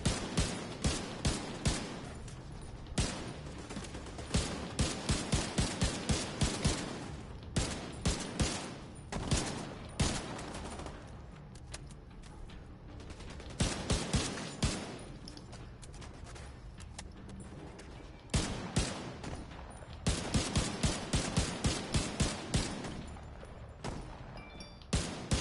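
Gunfire in The Division 2 comes as dense automatic bursts of rapid shots, loud and close. Brief pauses break the volleys, and no one speaks.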